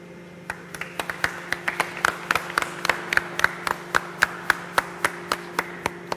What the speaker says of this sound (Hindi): ताली क्यों बजी?